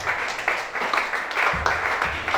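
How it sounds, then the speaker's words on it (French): A church congregation applauds for Chantal during a prayer and worship service, a steady wash of many hands clapping with rhythmic accents, fairly close and moderately loud. "Acclamez Chantal."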